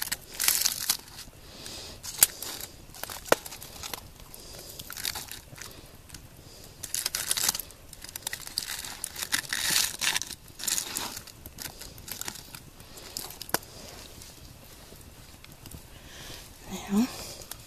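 Hot tin foil wrapped around meatloaf cooked outdoors on a hike crinkles and crumples close by in irregular bursts, with soft rustling between them.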